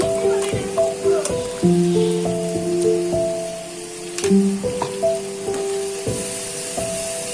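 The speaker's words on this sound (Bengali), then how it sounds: "পেঁয়াজ বাটাটা দিয়েও আমি ভালো করে আবার ভাজা ভাজা করব" Onion paste fries with a soft, continuous sizzle in a pan for chicken curry, partly buried under a louder melodic tune, with occasional stirring taps.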